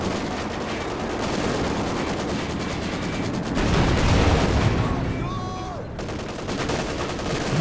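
Tank cannon and gunfire in a Company of Heroes 2 2v2 match, sounding as a dense, continuous roar of shots and rumbling blasts with a louder swell midway, under a commentator's voice.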